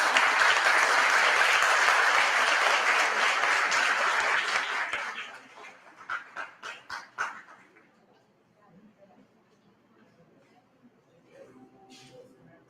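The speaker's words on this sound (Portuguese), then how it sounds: "Os aplausos, senhoras e senhores" Loud applause from a crowd for several seconds, fading into a few scattered claps, then near quiet with faint background sounds.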